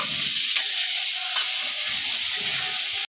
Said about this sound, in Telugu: దోరగా వేయించుకోవాలి ఒక ఐదు నిమిషాలన్నా వేయించుకోవాలి పచ్చివాసన పోయేంత వరకు ఉల్లిగడ్డ